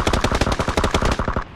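Rapid automatic gunfire in the PUBG battle-royale video game: a loud, close burst of about fifteen evenly spaced shots over a second and a half, then a brief fade, with no talking.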